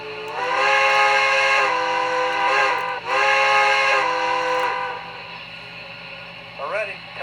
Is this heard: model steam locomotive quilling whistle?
yes